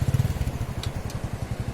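A motorcycle engine idles or putters nearby with a steady low, pulsing rumble and a few faint clatters, while the bike moves past in a rural area during heavy rain and flooding.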